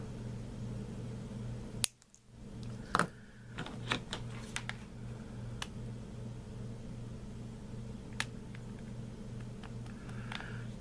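Scissors cut with a few crisp, close snips amid light handling noise over a steady background hum.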